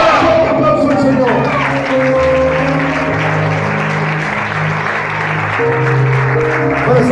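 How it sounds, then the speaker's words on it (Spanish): A church congregation at an evangelical service applauds loudly and continuously, the clapping blending with music chords and a few raised voices throughout. "un aplauso al Señor."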